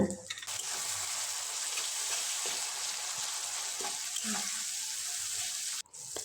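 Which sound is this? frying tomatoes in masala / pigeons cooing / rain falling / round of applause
frying tomatoes in masala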